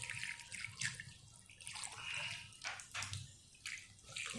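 Water is poured from a container onto a garage floor to test a Hart 10 gallon wet/dry vacuum, splashing and gurgling in uneven bursts at close range, with no talking.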